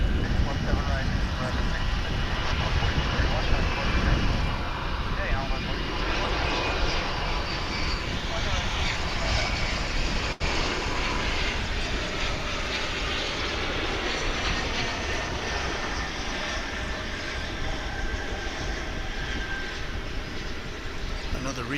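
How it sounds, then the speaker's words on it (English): A CRJ-900 regional jet departs Dallas/Fort Worth International Airport for Midland, Texas, its engines giving a continuous gritty roar at steady moderate loudness, with talk partly audible beneath the noise. "CRJ 901 or 900 ER. On its way to Midland, Texas, which is in West Texas."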